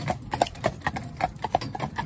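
A Shire and an Irish Draft sports horse, driven together as a pair, clip-clop with their hooves in a steady, brisk rhythm, close and clear with no talk over it.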